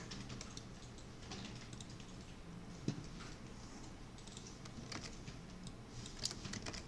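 Computer keyboard keys tapped while working in 3D design software, faint scattered clicks in a quiet room with one sharper tap near the middle.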